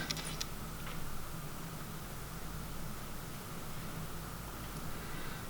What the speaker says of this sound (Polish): Piękne wodospady, słychać jak one szumią.